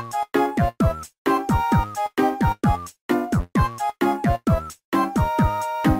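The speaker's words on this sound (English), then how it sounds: "normally, the graphics editor music sounds like this" Chiptune-style graphics editor music from WarioWare DIY on the Nintendo DS, a bright bouncy melody of short stabbed notes with brief gaps between phrases, played alone and fairly loud with no talking.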